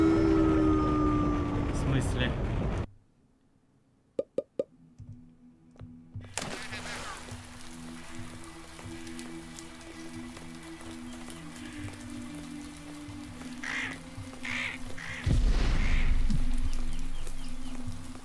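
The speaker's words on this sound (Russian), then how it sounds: "поливайте ведущую дождем без остановки" Steady video game rain patters softly across a surface in Rain on Your Parade, starting after a brief silence with a few clicks and continuing under background sounds.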